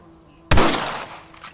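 A single loud rifle shot fires in Red Dead Redemption during a hunting lesson, a sharp crack followed by a rolling echo that decays over about a second, with a faint second report at the end.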